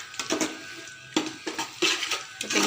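Stirring food in a cooking pot during home-style village cooking, heard as a series of scraping, clinking strokes of a utensil against the pot, spaced irregularly and fairly close, with no talking.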